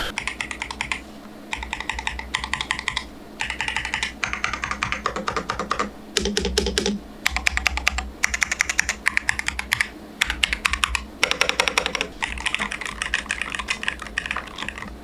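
Rapid clacky typing on an AULA mechanical keyboard, close and fairly crisp, in bursts separated by brief pauses, with a low background hum.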